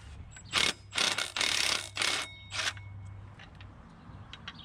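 Ratchet clicks in several loud, close bursts as a bolt is unscrewed while working on a 600-horsepower four-speed Charger, with a low hum underneath and faint ticks trailing off afterward.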